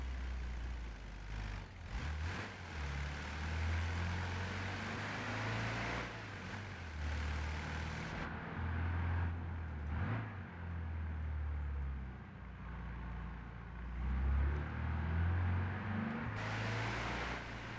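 Volkswagen Brasilia car driven in BeamNG Drive, the engine droning low and loud as it accelerates and shifts, revs rising and falling repeatedly with brief cut-outs, no talk.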